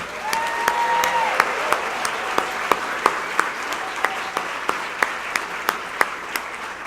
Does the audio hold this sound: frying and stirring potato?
no